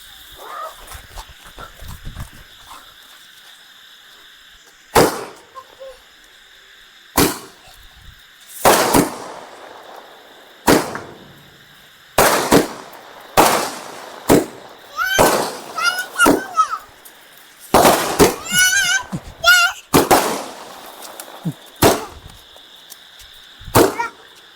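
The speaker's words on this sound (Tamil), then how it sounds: "மேலே போய் எப்படி வெடிக்குதுன்னு பார்த்தலாம் வாங்க." At night, a 12-shot aerial firecracker cake sends shells up one after another, each a loud, sharp burst with crackling tails, about a dozen spread irregularly over twenty seconds, with people talking in between.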